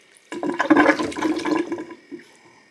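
Water gushes out under pressure from a line while a dishwasher is being removed, a sudden close burst of rushing, sloshing water lasting about two seconds and then tapering off.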